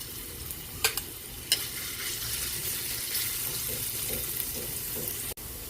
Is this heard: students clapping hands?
no